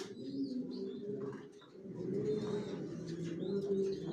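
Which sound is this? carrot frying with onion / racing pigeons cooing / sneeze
racing pigeons cooing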